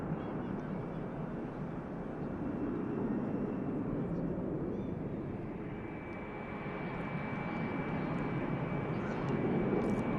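An airliner lifting off the runway at Manchester Airport gives a steady, broad engine roar heard from a distance, holding level throughout while people talk over it.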